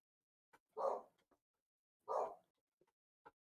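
Two short muffled barks from a dog ring out about a second apart, quiet and somewhat distant against near silence, with a few faint ticks between them.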